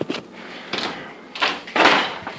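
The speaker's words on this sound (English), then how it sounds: "Sliding glass door that looks out to the backyard." A sliding glass door to a backyard in a rental home runs along its track in several short bursts, close and fairly loud, with rattling scrapes between quiet pauses.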